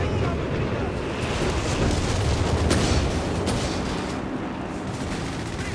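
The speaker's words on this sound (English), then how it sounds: "And there you go, quick strafing run." In Company of Heroes 3, an aircraft strafing run tears across the battlefield, with a dense, continuous barrage of gunfire and explosive rumble and a few sharper cracks standing out midway, loud and sustained throughout.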